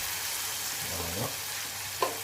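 Escalopes simmering and being stirred in a pan for sautéed rice, a steady soft sizzle with a short utensil scrape near the end, close and alone.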